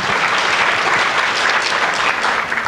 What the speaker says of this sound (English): And applauding that announcement.